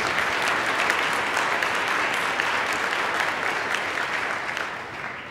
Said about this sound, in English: let's give a round of applause to Claire